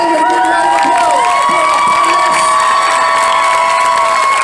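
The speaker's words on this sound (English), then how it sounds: "Ladies and gentlemen, a big round of applause." Audience at a Midsummer Scream 2019 panel for Dark Harbor cheers and applauds, with whoops and shouts rising over a steady, loud crowd roar that fills the whole moment.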